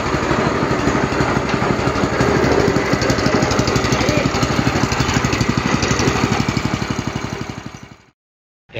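A Honda engine drives a sugarcane juice press machine, running loud and close with a rapid, steady chugging pulse for about eight seconds before cutting off abruptly.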